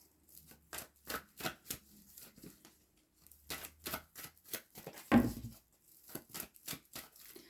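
Tarot cards shuffled and handled in a series of quick, close riffling bursts with brief pauses between them, and one sharper slap near the end, with no talking.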